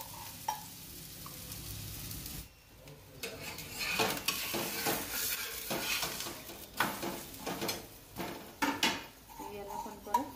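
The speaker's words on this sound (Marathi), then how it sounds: "याला पण परत साईडनी तेल सोडते थोडंसं" Oil sizzles around pumpkin thalipeeth on a pan. Scraping and metallic clinks of utensils sound over it, and the noise grows busier and louder after a brief quiet moment.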